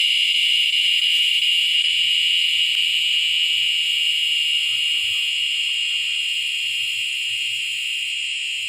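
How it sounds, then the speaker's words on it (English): A steady, high-pitched cicada drone fills the air without a break, loud and continuous, with faint low rustles beneath it. "listen to those cicadas. They're starting early today"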